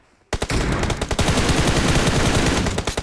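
Rapid automatic gunfire in the mobile battle-royale game PUBG Mobile starts abruptly after a short silence, then rattles on loud and dense in continuous bursts of sharp shots until the end.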